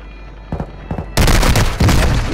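Tac V gun fire in a first-person shooter video game: a few light shots early, then a sustained loud burst of rapid automatic gunfire filling the rest of the clip, no talk.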